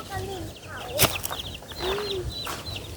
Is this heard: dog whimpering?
no